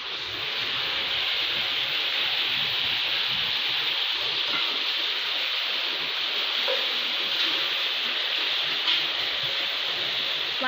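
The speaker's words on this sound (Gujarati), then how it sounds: "પાંચ વાગ્યાનો વરસાદ ચાલુ છે તો બતાવું તમને" Heavy rain pouring steadily outdoors in Gujarat, a dense, even wash of noise that stays constant without pause.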